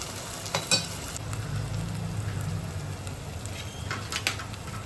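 Manchurian sauce ingredients sizzling and frying in a pan, a steady close hiss with occasional stirring scrapes and a low background hum, no talking.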